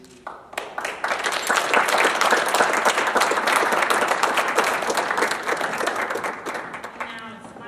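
Loud, sustained applause from a large crowd, dense clapping that swells quickly and continues steadily before tapering slightly at the end.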